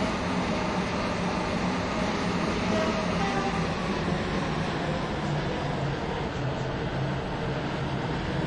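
Class 377 electric train running, a steady, broad rumble and rush of wheels on track from inside the carriage, continuous and even throughout with no voices.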